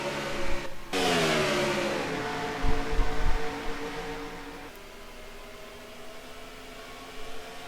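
Race cars on the track at Kansas in a racing video game, a whining engine drone that jumps up sharply and then holds a steady tonal roar with thumps, moderately quiet throughout.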